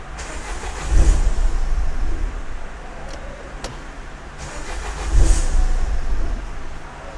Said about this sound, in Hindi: एंड अभी गाड़ी स्टार्ट करता हूँ एक बार।